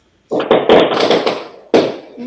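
Fireworks going off across a neighborhood: a series of sharp, crackling bursts in quick succession, loud and close, with a short pause before another blast.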